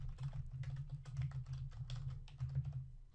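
Rapid typing on a computer keyboard, a steady patter of close, soft key clicks running throughout without any speech.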